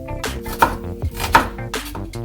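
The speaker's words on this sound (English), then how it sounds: "I'll be chopping my shallots fine." Shallots chopped finely with a knife on a board in a home kitchen, a quick series of sharp close taps and thuds in an uneven rhythm.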